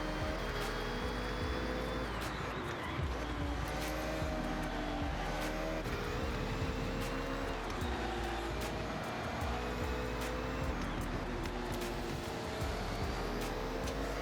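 Lamborghini Temerario with a stock engine driving in Forza Horizon 6, a steady loud engine drone rising and falling through gear changes, continuous and close throughout.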